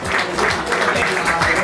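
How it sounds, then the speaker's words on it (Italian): Applause for the first-place winner at a cycling race prize ceremony in Parabiago, a short burst of brisk clapping from a gathered crowd. "un applauso al primo classificato"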